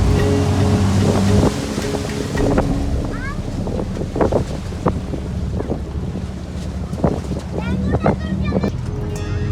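Tour boat cruising on the sea off Sulu Ada near Adrasan, Turkey, its steady engine drone and wind rush continuous with water washing past the hull, while voices talk intermittently over the noise.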